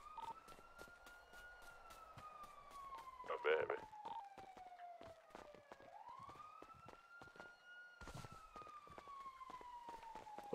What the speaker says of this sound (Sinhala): පොලිස් සයිරන් එකක් තේනවා